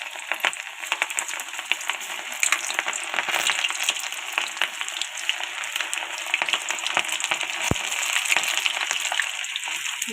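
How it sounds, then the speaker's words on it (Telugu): Ivy gourd (dondakaya) pieces frying in hot oil in a kadai, a steady close sizzle with crackling pops and scraping stirs running throughout, no voices. "దీన్ని ఆయిల్లో వేసుకుందాం"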